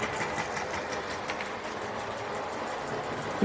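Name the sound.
toy model steam train running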